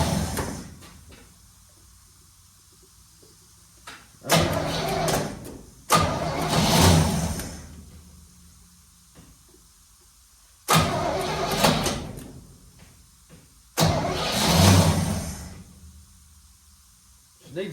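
A 1972 Chevrolet C10 with a failing starter cranks in four separate loud bursts of a few seconds each, with quiet pauses between attempts and no catch.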